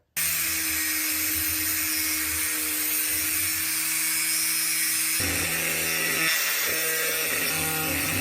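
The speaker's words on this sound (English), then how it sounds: "I'm just going to cut this off at an angle. Cut this off. Drill the hole." Steady, loud whine of a power tool cutting, with a brief pause and change in pitch partway through as drilling begins, no talk.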